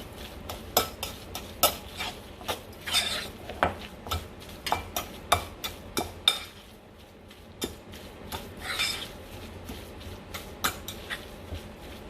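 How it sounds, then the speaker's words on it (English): Salmon paste being mixed in a bowl for patties, close rhythmic clinks and taps of a utensil against the bowl with soft stirring squelches, repeated steadily with a short pause midway. "Now I'm going to mix this. Mix it well up."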